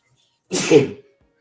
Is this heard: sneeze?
yes